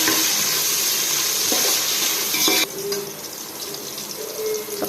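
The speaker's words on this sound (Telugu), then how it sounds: "కొద్దిగా మీడియంగా ఫ్లేమ్ ఉంచేసి వేయించేసుకుందాం" Onions frying in a pan over a medium flame for a chicken biryani, a steady hiss of sizzling oil that drops to a softer crackle partway through, close and alone without talk.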